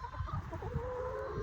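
Organic hens on a farm clucking steadily at close range, several birds overlapping in a continuous low chatter with a few sharper calls.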